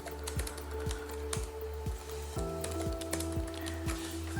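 A computer keyboard is tapped at close range as a username is entered, a steady run of quick, light keystrokes in an even rhythm, with no voices.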